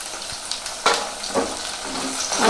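Ginger paste is stirred into cabbage frying in a pan for a vegetarian dish, with a steady sizzle broken by several close, scraping stirs.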